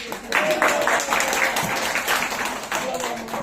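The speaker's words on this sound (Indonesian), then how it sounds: "Tepuk tangan buat Bu Medi" An audience applauds at a network marketing seminar, a sustained patter of clapping with talk and voices layered over it.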